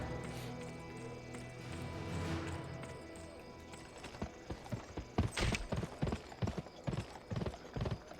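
Horse hooves clip-clop in the western video game Gun on PS2, starting faint under droning game music and ambience, then turning into a loud, fast, rhythmic gallop of sharp hoof strikes in the second half.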